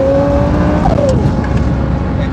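A twin-turbo Lamborghini engine revs hard on a dyno, a loud, close roar that climbs and then sweeps down in pitch over a couple of seconds.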